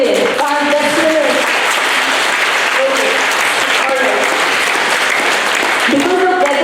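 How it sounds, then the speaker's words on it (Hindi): Audience clapping at a talk in Delhi, loud and continuous, with speech and crowd voices mixed in throughout. "प्लीज आपको कह रही ताली बजा लीजिए"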